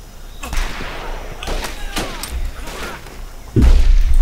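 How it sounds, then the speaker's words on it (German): Several sharp gunshot cracks from the video game Medal of Honor: Pacific Assault, scattered irregularly, punchy and close, followed by a heavy low thump near the end; voices murmur faintly underneath. "Leon, jetzt knall die doch mal ab!"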